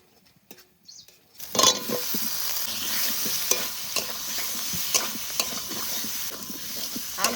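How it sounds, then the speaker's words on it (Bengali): Spice paste with salt and turmeric frying in a pan while being stirred, heard close up as a steady sizzle with scraping stirs and light crackles after a quiet start with a few soft knocks. "এবার মশলাটা ভালো করে কষিয়ে নেব"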